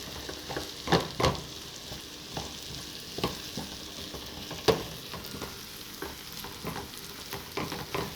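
Food sautés in a pan while making macaroni béchamel, a steady soft sizzle punctuated by irregular clinks and scrapes of a stirring utensil.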